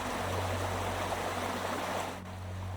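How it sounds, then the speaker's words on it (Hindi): Cold pond water swirls and washes continuously as someone wades in, a dense close wet rush over a low steady hum, briefly dipping near the end, with no speech. "जंत कांपते हुए तालाब में उतरता है"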